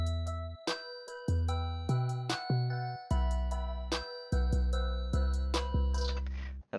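Dark ambient trap beat with a deep booming 808 bass pattern under tinkling bell-like melodic notes, steady rhythmic hits playing loud and clean without any voices.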